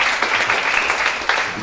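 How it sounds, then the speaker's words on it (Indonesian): A church congregation applauds together during a worship service, a dense, steady burst of clapping filling the space throughout. "Tepuk tangan mereka bagi Tuhan."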